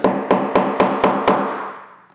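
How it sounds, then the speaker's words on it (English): A hammer strikes a snap setter to fix a snap on a sewn moto jacket: six sharp, evenly spaced metallic blows, close and loud, each ringing briefly before the next, then a fading tail. "And then you just take the hammer and knock it down."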